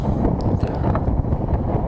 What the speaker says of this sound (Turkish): o yüzden baya bir rüzgarlı hava